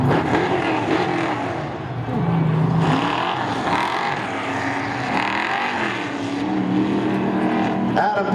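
A Sportsmen race car at Seekonk Speedway drones loudly through a victory lap after a 35-lap feature, its engine a broad, continuous roar mixed with track ambience, with an announcer talking over it.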